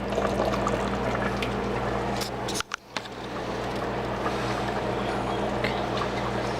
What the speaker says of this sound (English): And you just want to let this saute so it gets out all the liquid.